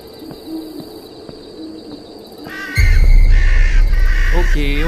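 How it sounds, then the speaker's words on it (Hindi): Crows caw in the Bhangarh horror game, a few sharp calls near the end over a loud rumbling drone, following quieter ambient tones and owl-like hoots. "ओके ओके, कौवे तो हैं, कौवों से क्या डरना।"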